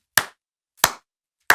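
Three sharp, isolated hand claps spaced evenly about two-thirds of a second apart, close and crisp with silence between each.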